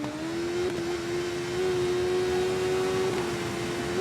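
A racing motorcycle engine in TT Isle of Man holds a steady high whine, with brief blips where gears drop down for a corner, loud and close with no talk.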